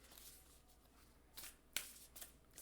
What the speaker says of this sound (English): I'm hoping that the card shuffling won't be too loud